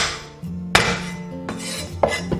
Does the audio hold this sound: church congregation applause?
no